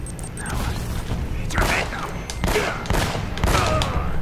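Uncharted: Drake's Fortune firefight with repeated booming gunshots spaced roughly a second apart over a steady background of game noise, loud and close.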